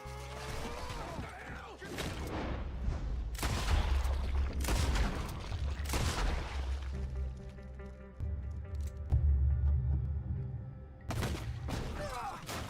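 Gunfire in the tactical mech battle game Front Mission 1st: Remake: a series of heavy, crashing bursts spaced every second or two over a dense, rumbling mechanical battle background, with no talking.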